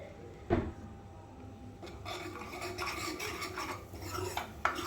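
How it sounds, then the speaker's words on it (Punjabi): Gram flour roasting in desi ghee is stirred and scraped around a pan, giving a raspy, rubbing sound with a few sharper knocks of the utensil against the pan. "ਇਹਨੂੰ ਆਪਾਂ ਉਦੋਂ ਤੱਕ ਭੁੰਨਾਂਗੇ ਜਦੋਂ ਤੱਕ ਇਹ ਹਲਕਾ ਬ੍ਰਾਊਨ ਨਹੀਂ ਹੋ ਜਾਂਦਾ"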